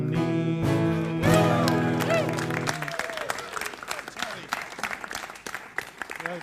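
Applause for a singer at a live traditional Irish music session, with clapping swelling under a speaking voice. The opening holds a sustained sung or played note before the clapping dominates, close and lively throughout.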